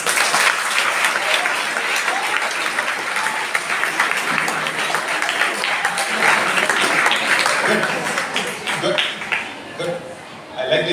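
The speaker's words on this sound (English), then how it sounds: "Big round of applause to everybody." A ninth-grade class at a public school applauds together, a steady dense round of clapping with a few chuckles mixed in, thinning out toward the end.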